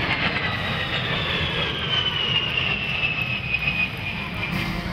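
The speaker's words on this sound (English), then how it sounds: "Because of its frequent changes in direction, airspeed, and altitude, the A-10 becomes a difficult target to shoot." A Fairchild Republic A-10 attack jet maneuvers at a military airshow at Naval Base Ventura County Point Mugu, its engine roar a steady, loud broadband rush with a slowly falling whine sustained throughout.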